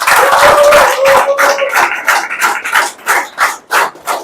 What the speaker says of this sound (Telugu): వీళ్ళకి గట్టే క్లాప్స్ కొట్టాలి.